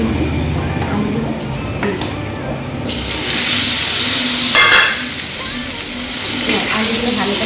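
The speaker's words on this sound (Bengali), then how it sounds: "আলুগুলো ভালো করে ভেজে নেব" Sliced potato strips sizzle in mustard oil in a pan, with a steady frying hiss, brief stirring scrapes and a louder surge of sizzle partway through.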